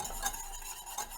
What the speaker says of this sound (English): I'm gonna pour this in, whisk around